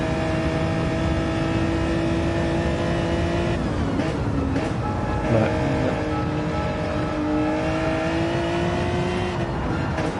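Onboard GT1 race car engine at Lago Maggiore GP in a racing video game, a steady high droning whine that dips briefly on shifting and braking, then climbs again, constant and close with faint commentary.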